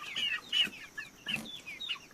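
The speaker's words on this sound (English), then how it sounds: "We have 6 chickens here." Small flock of six backyard chickens on a homestead clucking nearby, a series of short, repeated clucks and chirpy calls in quick irregular bursts, with no talking.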